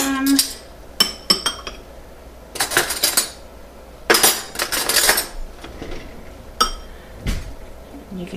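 Metal spoons and cutlery clink and clatter as they are grabbed in a home kitchen, with several sharp, close bursts scattered among quieter gaps.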